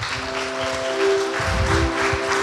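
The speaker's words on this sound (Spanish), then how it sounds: "Denle un fuerte aplauso al Señor." A church congregation applauds in praise of the Lord, a steady wash of clapping held at even loudness for a couple of seconds, with a sustained musical tone underneath.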